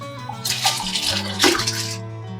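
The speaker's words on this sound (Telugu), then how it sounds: "ఇప్పుడు ఈ నీళ్లు వంపుకొని దీంట్లో వేసేస్తాం" Water pours steadily into a cooking pot while a home-style chicken dum biryani is being made, a close, continuous splashing stream that swells midway and stops near the end.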